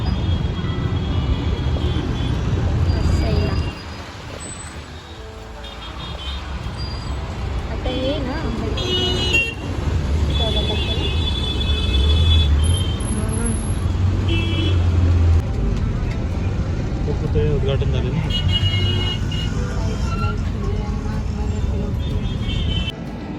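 An MSRTC state transport bus travelling from Nashik to Vasai, its engine droning steadily in the cabin with road rumble and occasional horn toots, while people talk over the noise.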